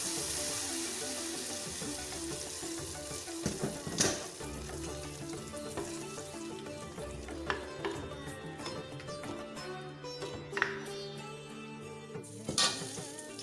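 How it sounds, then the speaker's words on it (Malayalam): Mustard seeds, fenugreek, dried red chillies and curry leaves crackle in hot oil for tempering a Kerala mango kichadi, a steady close sizzle with scattered pops and a few louder spatters. "കടുക് താളിച്ചൊഴിക്കാം."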